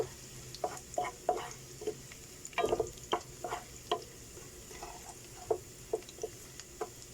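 Chicken gizzards frying in a pan with bay leaves and whole peppercorns, a quiet steady sizzle broken by scattered pops and crackles and occasional stirring, with no talking.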